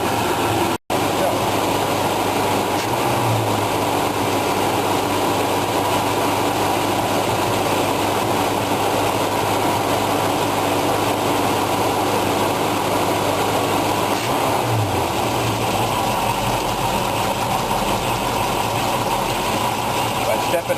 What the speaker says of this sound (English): I'm just going to let the motor come up to temperature before I take the cover off the carburetor.